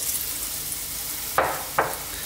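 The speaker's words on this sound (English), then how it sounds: "Now I'm shallow frying these" Chicken balls shallow frying in a pan give a steady close sizzle with two brief louder crackling bursts as pieces settle into the hot oil.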